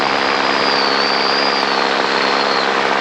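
A radio-controlled model airplane's engine drones loudly and continuously outdoors, its high-pitched whine wavering slightly as the throttle is worked unevenly.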